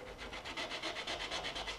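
Sandpaper of 180 grit rubs over a turned wooden bowl spinning on a lathe, giving a steady rhythmic rasping hiss that swells and fades about five times a second, close and alone with no talk.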